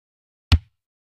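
One short, deep kick drum thump from a drum kit, close and punchy, dying away quickly into silence.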